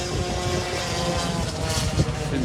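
A racing stock scooter engine at Pembrey circuit gives a steady, buzzing exhaust drone that holds at a constant pitch and level for the whole stretch, with no voices over it.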